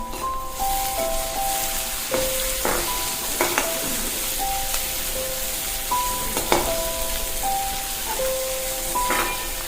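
Chopped tomatoes frying in hot oil in a pan and being stirred, with a steady sizzle and repeated scraping, clinking strokes of a spoon against the pan throughout.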